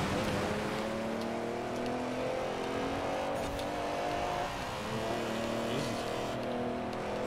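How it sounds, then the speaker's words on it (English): Honda race car engine in Forza Horizon 4 drones and revs steadily throughout, with tire noise, loud and continuous with no talk. "His car sounds terrible."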